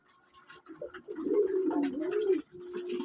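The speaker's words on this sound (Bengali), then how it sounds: "মাশাল্লাহ ঘরে অনেক ডেকি কবুতর আছে" Domestic pigeons cooing in a home loft, with low, rolling coos rising and falling continuously through the clip, close and moderately loud with no talk.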